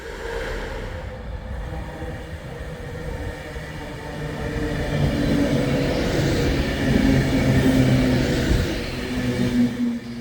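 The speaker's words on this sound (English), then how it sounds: "we see plenty of Avanti West Coast Main Line units coming through, just one after the other" An Avanti West Coast train passes on the busy West Coast Main Line, a steady rumbling roar of wheels and motors that grows louder as it nears and stays heavy throughout.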